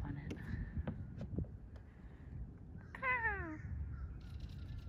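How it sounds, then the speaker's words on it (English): A large bird calls from a tree, giving a single short rising-and-falling harsh call partway through, heard at moderate distance over outdoor ambience and some handling noise near a tidal fishing spot. "There's a very large bird in this tree."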